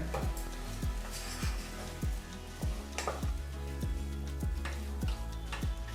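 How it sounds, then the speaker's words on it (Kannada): Vegetables for broken wheat biryani are stirred and heated in a pan: a continuous sizzle with a regular beat of dull scraping knocks from the spoon, close and fairly loud, with no talking. "ಈಗ ಒಂದು ನಿಮಿಷಗಳ ಕಾಲ ಈ ತರಕಾರಿನೆಲ್ಲ ಬೆರೆಸಿ ಬಿಸಿ ಮಾಡ್ಕೋಬೇಕಾಗತ್ತೆ"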